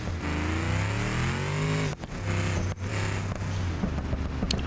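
A stick-shift car in the BeamNG driving game launches on a 500-shot nitrous setup, its engine loud and close, revving up steadily, breaking briefly at shifts and climbing again.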